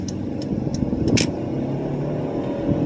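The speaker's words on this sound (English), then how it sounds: "I'm driving a 2000 model Stratus" 2000 Dodge Stratus with the 2.4-liter dual overhead cam four-cylinder driving, a low steady engine drone inside the cabin with a few faint ticks.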